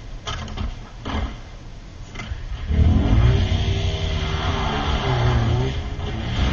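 Game vehicle engine in Far Cry 3 revving and accelerating, starting quieter with a few bursts and then holding a loud, steady drone with rising and falling pitch.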